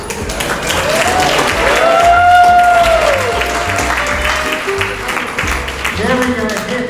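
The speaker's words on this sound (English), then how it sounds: "Stop applauding as they go to his head." An audience applauds at a comedy play, a sustained burst of clapping that swells and then fades, with voices and a tonal sound running over it.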